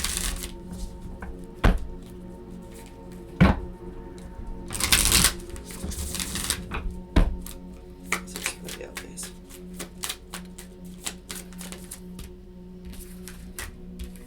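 Work Your Light Oracle cards are shuffled by hand in a quiet room, with soft riffling, sharp slaps and taps as the deck is squared, some louder bursts, and no talking.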